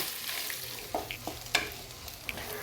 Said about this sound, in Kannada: ಈ ಈರುಳ್ಳಿನೂ ಅಷ್ಟೇ ಚೆನ್ನಾಗಿ ಕಲರ್ ಚೇಂಜ್ ಆಗೋವರೆಗೂ ಎಣ್ಣೆನಲ್ಲೇ ಬಾಡಿಸೋಣ.